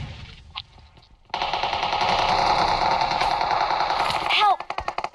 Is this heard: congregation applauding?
no